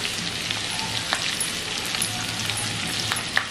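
Ginger, garlic and cut chilies frying in a pan for crispy dry chilli chicken, giving a continuous close crackling sizzle with scattered sharp pops and faint stirring scrapes.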